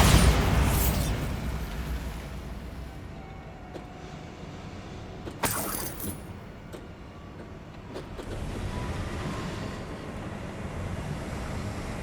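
A Bombarda spell blast in Hogwarts Legacy opens the clip with a loud, low boom, then rumbling debris settles, with a couple of sharp cracks and crumbling bursts following in the background.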